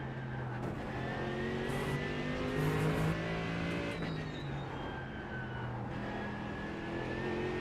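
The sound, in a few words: race car driving in a racing video game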